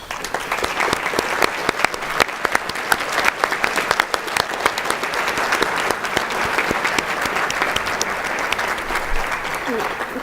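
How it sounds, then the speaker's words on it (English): An audience at a symposium gives a long, steady round of applause for the planning committee, dense clapping from a large room continuing for about ten seconds. "we'd like to give them a round of applause"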